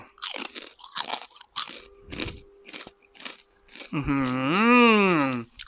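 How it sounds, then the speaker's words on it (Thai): Close-miked crunching of Yada Boon crispy pork rinds, a series of loud crackly bites and chews, ending with an appreciative hummed moan. "ถอดไมมาให้ฟังเสียงกรอบใกล้ๆเลย ว่า เสียงกรอบมันจะเป็นยังไง"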